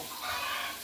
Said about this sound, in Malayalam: എൻ്റെ കോഴിയുടെ മനോഹരമായിട്ടുള്ള ആ ശബ്ദം കേൾക്കുന്നുണ്ടോ